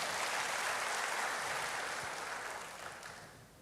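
A church congregation applauds, a steady wash of clapping that holds even at first, then thins and fades toward the end.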